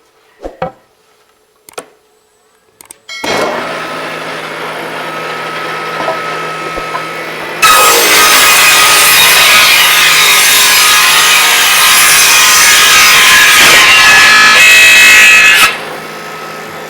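Ripper saw cutting 2x6 or 2x4 wood boards into hubs in a mill, a few knocks, then a steady motor hum and a louder grinding cut that rises midway and drops off near the end.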